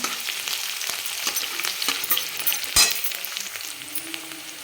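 Coarsely chopped onion frying in a pan, a soft continuous sizzle with intermittent scraping and stirring clicks, close and fairly quiet, no voices.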